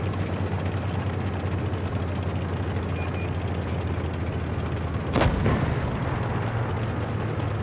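A single heavy tank cannon shot from the Tiger (P) in World of Tanks Blitz booms out over a steady low engine rumble, followed by a short lingering tail as the engine drone continues.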